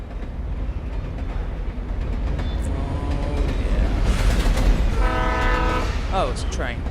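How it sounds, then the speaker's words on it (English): A train in the game Alan Wake rumbles past, its horn blaring with a sustained tonal blast midway, over steady rolling rail noise and clatter that stays loud and close throughout. "Oh, it's a train."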